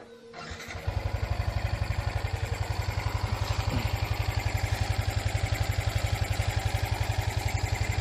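A Yamaha motorcycle engine fitted with a six-speed gearbox cranks and fires up, then settles into a steady, rapid, close-up idle thump that continues to the end.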